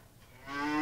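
A single cow on a 300-cow dairy farm gives a rising moo that swells in loudness over its last half, close and alone.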